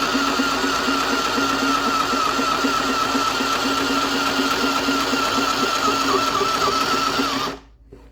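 A mini portable sewing machine runs steadily on fabric without forming stitches, giving a loud, continuous mechanical whir with a fast repetitive hum that stops abruptly near the end.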